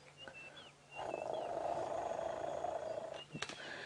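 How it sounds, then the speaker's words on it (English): A young elephant at sunset in the wild gives a low, purr-like rumble lasting a couple of seconds, faint under steady wind and vehicle noise, with birds chirping in the background. "a lot of those rumbles, they sound sort of almost like purrs"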